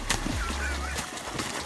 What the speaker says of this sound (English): If you thought swans were lovely creatures, then take a look at this huge one attacking a dog.